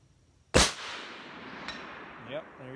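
Single loud, sharp crack from a Remington 700 hunting rifle fired at a steel target, followed by a long fading echo and a faint distant ping, with brief voices afterward.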